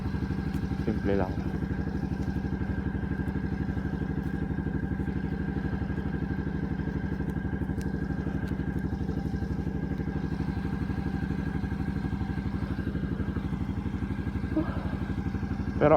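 A scooter-type motorcycle engine runs steadily during a ride, a constant close mechanical drone with a few faint clatters over sixteen seconds.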